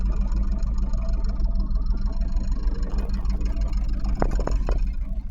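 A Catalina C 30 sailboat's inboard engine idles steadily at a dock, a continuous low rumble, with a few brief knocks and clatters near the end as lines are handled.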